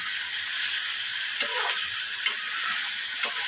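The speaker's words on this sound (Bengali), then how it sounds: "আলুটা নেড়ে" Potatoes being stirred into ghugni in a pan, a steady sizzle running throughout with a few soft scraping strokes of the spoon, close and moderately loud, with no talking.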